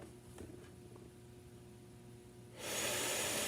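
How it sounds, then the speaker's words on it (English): Air leaking from a ResMed AirSense 11 CPAP humidifier: a low, quiet hum gives way near the end to a sudden loud, steady rushing hiss that continues to the close. "You can hear the air leak coming from here."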